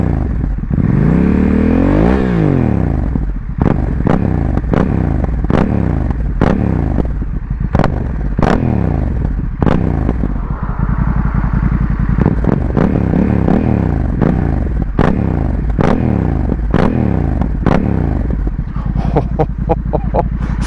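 Honda Africa Twin motorcycle with an aftermarket exhaust can, revved repeatedly while idling: a dozen or more sharp throttle blips rise and fall over a steady, loud engine rumble, finishing with a quick flurry of revs.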